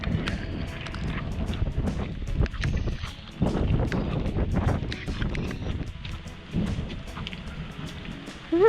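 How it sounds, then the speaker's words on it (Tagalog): Heavy rain pours down steadily with a broad hissing wash and irregular louder gusts and splashes throughout. "lakas na ng ulan"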